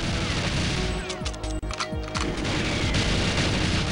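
Gunfire in the GoldenEye video game: a dense flurry of shots and impacts crackles over the continuous game soundscape, loud and close.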